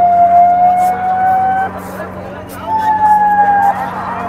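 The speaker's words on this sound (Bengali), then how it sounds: "অ্যাম্বুলেন্সের জন্য জায়গা করে দেওয়া হলো খুব তাড়াতাড়ি যাওয়ার জন্য" An ambulance siren sounds as it passes through a crowd on the way toward Triveni Sangam, a steady wailing tone that shifts pitch partway through. It is moderately close and is heard over crowd noise and traffic rumble.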